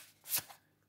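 Tarot cards being shuffled and drawn, a single quick riffling swish peaking near the middle, close and soft, with no talk.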